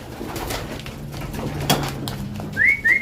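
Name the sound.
racing pigeons in a loft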